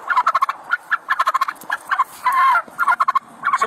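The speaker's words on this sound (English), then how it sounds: "That's turkey." A turkey gobbles loudly and close by, rapid rattling bursts repeating in quick clusters with a longer warbling call midway, during a police encounter with wild animals.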